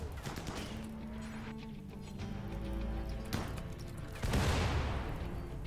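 Mortar fire in the video game RimWorld: a series of booming launches and impacts over a low game soundscape, with one heavy blast near the end, fairly faint.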